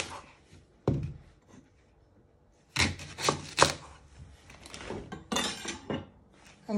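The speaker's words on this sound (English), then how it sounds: "You first want to chop your ends off." A knife chops the ends off a leek on a cutting board: a single sharp thunk near one second, then after a pause a cluster of several quick, loud cuts, followed by more chopping and clattering.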